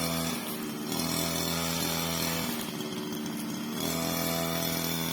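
Nylon-line string trimmer cutting grass around a temple grounds, a steady buzzing engine drone with rising and falling whine as the line works through the growth, held at a moderate distance without talk.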